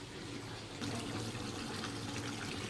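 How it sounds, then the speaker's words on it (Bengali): Water poured into a pot of cooking chicken makes a continuous, even rushing splash that grows slightly louder after the first moment and then holds steady, close by, with no voices. "আমি এখানে জল দিয়ে দিয়েছি"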